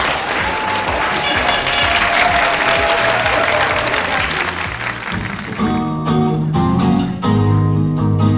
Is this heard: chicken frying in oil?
no